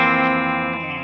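A Mick Thomson signature electric guitar on the bridge pickup with the toggle switch up rings out one bright, twangy distorted chord that sustains evenly and fades slightly, with no talking.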